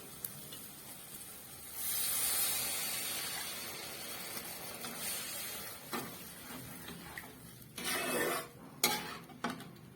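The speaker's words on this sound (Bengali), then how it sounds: "এবার এর মধ্যে আমি দিয়ে দেবো একটু জল" Water poured into a pan of frying egg curry masala erupts into a loud, steady hiss that fades after a few seconds, followed by scattered metallic clatters and a second brief surge of sizzling, all close by.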